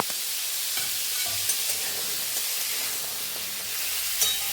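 Red sweet potato being stirred in sizzling tamarind chutney in a pan, prepared for Saraswati Puja: an even, steady hiss with faint, scattered stirring taps and no talking.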